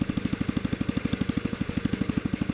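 A Kohler K-series small engine with an imported carburetor idles nearby with a steady, rapid chugging pulse and low rumble, running evenly with no other sounds.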